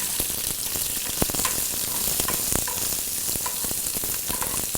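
Split green chillies and chopped ginger frying in a pan with curry leaves, a steady dense sizzle with crackles and pops throughout, close and alone.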